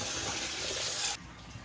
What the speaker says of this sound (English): I'm gonna wash it about 3 times